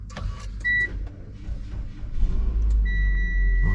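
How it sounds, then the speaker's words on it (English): A Mitsubishi Xpander engine starts inside the cabin: two short chime tones, then a rising rumble as the motor catches and settles into a steady, loud idle, with another sustained tone near the end. "Let's start the car."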